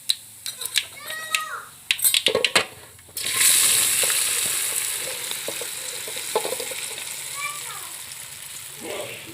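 Dhokla pieces going into a frying pan: a few clattering knocks and a short voice come first, then a sudden loud sizzle that slowly fades, with scattered stirring noises.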